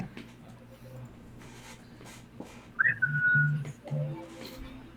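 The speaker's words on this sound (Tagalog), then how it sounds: "At dahil dyan, sisipol ulit ako." A person whistles one sharp rising note that is held briefly, over faint background voices and low hum.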